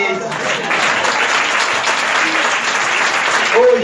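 A church congregation breaks into loud, dense applause with scattered cheers, filling the space steadily for a few seconds before tapering at the end.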